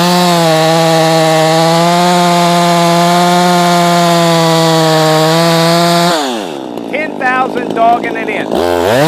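A Poulan Pro 335 chainsaw screams at a high, steady pitch around 11,600 RPM for about six seconds, then bogs down and fluctuates as it cuts into wood.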